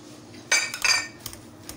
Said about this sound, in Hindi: आलू हमारे अच्छे से बॉईल हो चुके हैं, अब मैं इसको अच्छा सा कर दूंगी मैश